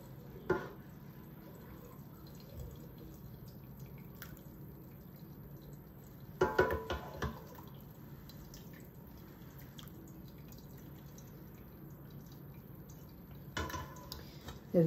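Whey drips from homemade fresh cheese as it is separated in a kitchen, a faint, steady patter of liquid with a few louder splashes and clinks along the way.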